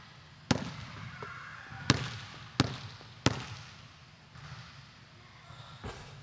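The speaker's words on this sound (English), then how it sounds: "Take your dribble, concentrate on the rim, bend your knees, and shoot the shot." Basketball dribbled and shot at the rim on an outdoor court, giving a few sharp, separate bounces and impacts spread over several seconds against a steady background hiss, moderately close.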